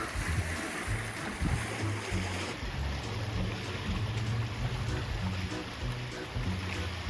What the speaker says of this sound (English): Chattahoochee River.